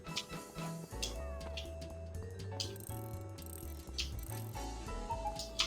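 A hungry cartoon cat in a space-themed video game meows among clicking ratchet-like mechanical effects and a steady game soundtrack, with no talking.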